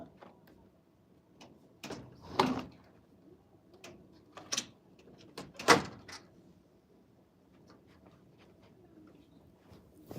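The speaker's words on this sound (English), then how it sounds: "I have to shut the door." A door is shut indoors with a few sharp knocks and thuds spread across the stretch, the loudest bang near the middle, set against a quiet room with little else.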